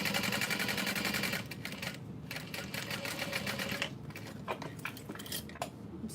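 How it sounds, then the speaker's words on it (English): A sewing machine bastes a zipper into place on a fabric tester for a diaper bag, fast rattling needle bursts starting and stopping in short runs, close and fairly quiet. "So I'm basting my zipper into place."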